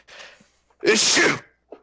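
A single loud human sneeze bursts out after a brief quiet breath, with a short spoken exclamation around it at a tabletop role-playing game session.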